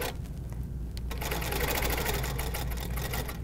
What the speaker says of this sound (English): I'm just gonna stitch.